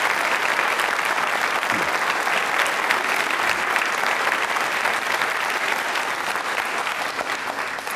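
Dense, loud applause from a school audience at a consumer-awareness quiz show, a continuous wash of clapping holding steady for several seconds and tapering only slightly toward the end.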